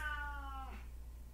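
A single cat gives a drawn-out meow, close and fairly clear, with a tonal cry that bends downward and fades, over a low steady background hum.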